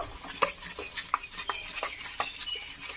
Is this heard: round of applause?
no